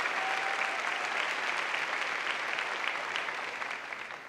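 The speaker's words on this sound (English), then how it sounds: "Can we give Katie another round of applause?" A commencement audience gives sustained applause, a dense even wash of clapping that fades slightly at the end.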